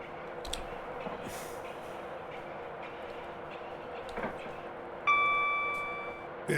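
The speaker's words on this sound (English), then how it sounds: "I think it's the wheels straining on the curves," Simulated train running from Newcastle to Edinburgh in Train Simulator Classic, steady rolling rumble with faint ticks, then a loud high-pitched wheel squeal from straining on a curve that slowly fades.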